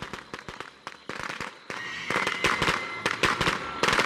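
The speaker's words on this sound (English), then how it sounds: "Fireworks." Fireworks explode in rapid, irregular bursts of sharp cracks and pops, growing denser and louder over a few seconds, with no talk.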